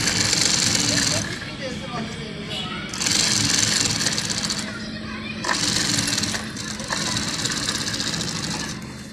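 A sewing machine stitches along the edge of a fabric strip laid on buckram, running in steady whirring bursts that stop and restart three times, loud and close.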